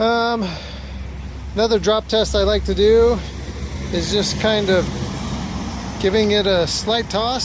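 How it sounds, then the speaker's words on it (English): Passing road traffic rumbles low and continuous behind someone talking nearby outdoors, the engine drone swelling slightly in places beneath his speech. "I have to apologize for the traffic."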